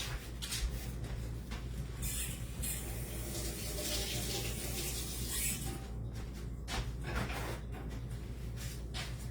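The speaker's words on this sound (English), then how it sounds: "I'm gonna wash my hands first." Hands being washed under a running kitchen tap, a steady broadband rush of water with rubbing and splashing changes throughout, fairly close and with no talking.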